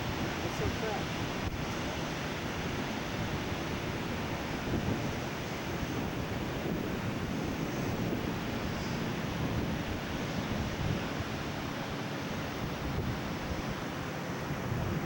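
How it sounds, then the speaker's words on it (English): Ocean surf roars as a steady, dense wash of breaking waves, with wind buffeting the microphone over the whole stretch. "And here's the ocean."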